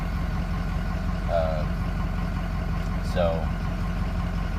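A car engine with 211,000 miles and a suspected low-pressure oil pump fault idles steadily and close by with a constant low rumble, while someone talks briefly over it.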